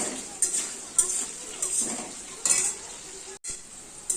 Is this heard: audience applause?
no